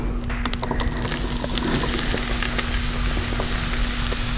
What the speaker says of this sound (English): we're going to saute these for about 8 to 9 minutes in our pan